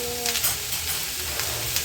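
Okra sizzles steadily in hot oil seasoned with salt, turmeric and asafoetida, a constant close crackle with a few brief spatters and faint spoon scrapes.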